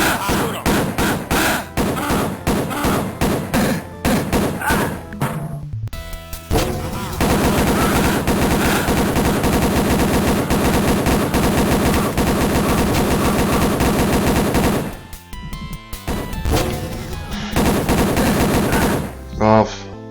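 Dense machine-gun fire from the video game Wolfenstein comes in long, rapid bursts, loud and close, with brief pauses between volleys.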